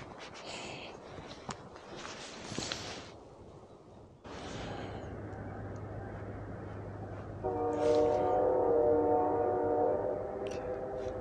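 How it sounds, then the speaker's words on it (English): A loud train passes near a foggy outdoor spot, its rumble building into a sustained roar with a long blaring horn tone in the final seconds. "Oh, you heard the train."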